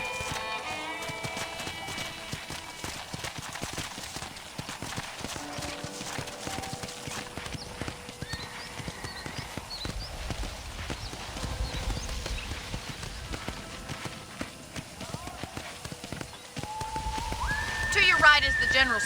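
Horse hooves clip-clop steadily in the Red Dead Redemption video game, a ranch horse walking along under voices and ambient game sound that swells near the end.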